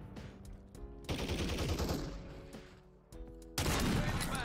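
Bursts of automatic gunfire from a weak gun in Call of Duty Warzone, on Rebirth Island in Plunder mode, rattle in several loud volleys separated by brief pauses, the final burst the loudest.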